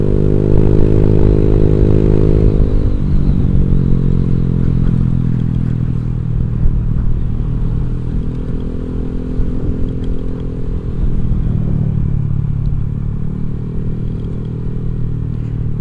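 A Honda Vario 150 scooter fitted with a Black Devil aftermarket exhaust rides along, a loud, close, buzzing drone that rises and falls with throttle changes, with no speech.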